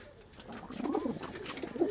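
Homer and Tippler pigeon cocks cooing in a loft, a soft low burbling coo rising over about two seconds, close and gentle.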